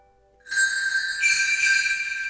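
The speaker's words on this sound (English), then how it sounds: "Sleigh bells." Sleigh bells from a Musio sample plugin jingle in a bright, shimmering burst that starts suddenly and rings on steadily, swelling a little halfway through.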